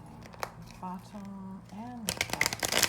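Tarot cards being shuffled, producing soft papery riffling and crinkling bursts toward the end, under a speaking voice with background noise.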